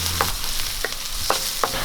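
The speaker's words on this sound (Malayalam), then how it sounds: "ഇനി ഒരു സവോള അരിഞ്ഞത് ഇട്ട് കൊടുക്കാം." Chopped onion frying in coconut oil with mustard seeds for a Kerala potato mezhukkupuratti, a steady close sizzle broken by four short scraping stirs of a spoon in the pan.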